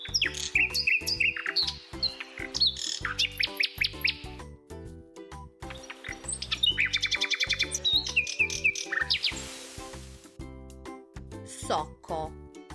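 A nightingale, a small brown bird, sings in bursts of rapid trilling whistles and chirps over a steady musical backing, with several phrases repeating loudly across the clip.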